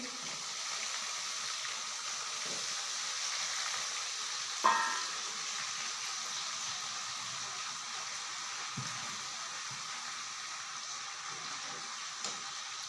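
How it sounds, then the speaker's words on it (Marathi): Washed fenugreek leaves tipped into hot oil over a medium flame, giving a steady soft hiss and sizzle that runs throughout with a brief clatter partway through. "आता मी मग अशी धुवून घेतलेली मेथीची भाजी तर तेलामध्ये टाकत आहे"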